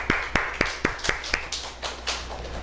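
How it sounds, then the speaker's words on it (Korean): During a Sunday morning service at a church in Seongnam, a few people in the congregation clap in distinct, rhythmic beats. Several sharp claps come at a steady pace, then fade into softer, scattered claps. "하나님께 영광의 박수 올리겠습니다."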